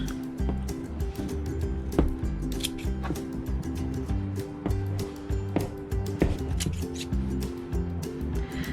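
Scissors snip repeatedly while trimming the loose ends of a homemade rope for pet rats, giving quick, light clicks at an irregular pace over faint steady background tones.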